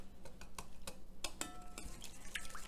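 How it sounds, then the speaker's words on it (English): A whisk clinks steadily against a bowl as honey cake batter with coffee gets mixed, giving light rhythmic metallic ticks and scrapes, fairly quiet, with no voices. "Whisk that all together till everything's nice and blended."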